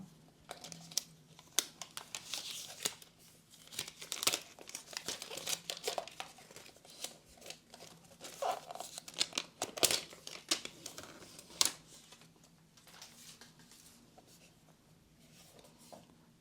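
Packaging for an Apple Mac Mini M4 is opened with close, irregular crinkling, rustling and tearing of paper and cardboard, in busy bursts throughout with quieter pauses and no talking.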